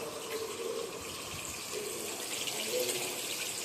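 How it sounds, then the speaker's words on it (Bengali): Black cumin seeds and green chillies sizzle steadily in hot oil in a pan while a bottle gourd curry is being cooked, a constant close hiss and crackle with a voice speaking over it. "আমি কালো জিরে আর কাঁচা লঙ্কা তেলে ফোড়ন দিলাম"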